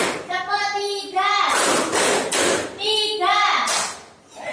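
A school class claps a counted rhythm pattern in short bursts of hand claps, alternating with a teacher's voice counting and giving instructions nearby.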